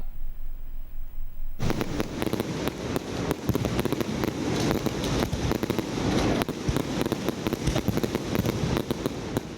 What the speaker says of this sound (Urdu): مارکہ حق کا 1 سال مکمل ہونے کی خوشی میں ٹاؤن ہال لاہور میں آتش بازی کی گئی۔